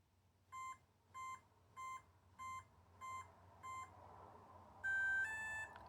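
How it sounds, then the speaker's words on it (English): A Salty Talon Pro lure machine controller pairing: six evenly spaced electronic beeps, then a brighter two-tone chirp, clear and close over a low steady hum. "After those series of beeps and that final chirp, you're good to go."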